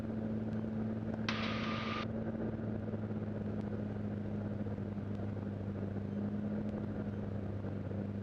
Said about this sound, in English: You can hear me coming back in the throttle